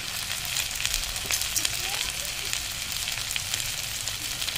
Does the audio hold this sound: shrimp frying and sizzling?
yes